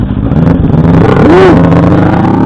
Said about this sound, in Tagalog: Paring nga naka CF Motor 400.